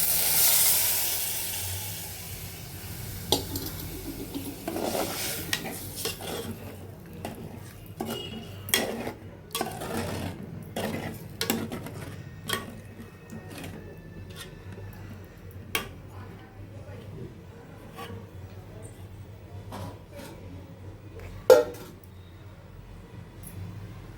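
Tomatoes and salt frying in a pan for uppu chepa pulusu, heard as a soft background sizzle broken by repeated ticks and clinks of a utensil against the pan, with one sharper knock near the end.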